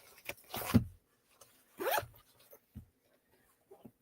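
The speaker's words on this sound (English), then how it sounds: "the zipper's gonna fight me on this one" A clothing zipper is pulled open in two rasping strokes, close by, with a few soft rustles and taps in between and no talking.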